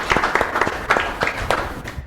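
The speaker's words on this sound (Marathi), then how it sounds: "टाळ्या वाजवा प्रभूसाठी" A church congregation claps along at a Good Friday service, a steady run of sharp, close hand claps at an even rhythm for about two seconds, with no talking over it.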